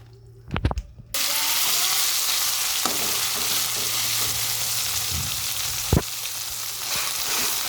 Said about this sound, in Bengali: এটা ভালো করে তেলের মধ্যে ভেজে ভেজে জলটা শুকনো করবো